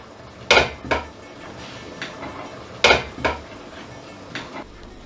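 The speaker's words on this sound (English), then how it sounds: "give it a stir," Celery and other ingredients for a Cypriot chickpea-and-tomato dish stirred in a pot, heard as a few sharp, close clanks and scrapes of a utensil against the pot, arriving in separate bursts with quieter pauses between.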